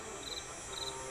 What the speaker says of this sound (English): I believe it's supposed to be bugs buzzing in the trees.